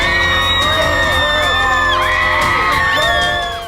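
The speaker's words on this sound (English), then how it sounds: "Ear-piercing screams on Hollywood Boulevard as hundreds of fans lined the barricades" Crowds of fans scream shrilly and continuously along the barricades at a Hollywood Boulevard movie premiere, many voices overlapping in loud, sustained high-pitched whoops close by.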